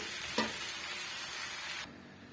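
Masala rice being mixed in a hot pan: a steady close sizzle with one brief knock of a spoon early on, then the sound drops away suddenly near the end.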